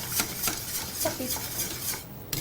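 Food is stirred in a cooking pot, the utensil scraping and clinking against the sides in a few soft, rhythmic strokes, close up and with no talk.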